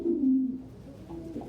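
Pet pigeon cooing close by, a low, throaty burst of coos followed by a softer second phrase, clear and alone without speech.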